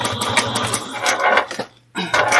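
Sewing machine stitching over a quilted Hortensia barrel bag, rapid rhythmic needle clatter that runs loud and close, pauses briefly, then resumes.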